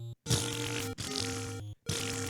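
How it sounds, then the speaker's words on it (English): Buzzy, tonal fart noises from the Angry Video Game Nerd intro sound in three bursts separated by short silences, loud and alone. "Fart noises."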